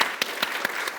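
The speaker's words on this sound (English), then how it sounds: "we should have a round of applause for We that" An audience at a panel discussion on UK resilience applauds, a steady wash of clapping with a few sharper, evenly spaced claps standing out over one second.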